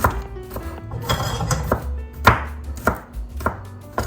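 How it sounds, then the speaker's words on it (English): Fresh garlic crushed and chopped with a knife on a cutting board while making homemade pizza by hand: crisp, close knife thuds land in an uneven run, some louder and sharper, with faint kitchen clinks between. "what I'm gonna do is crush it with my knife like I did with the San Marzano tomatoes. And a quick chop."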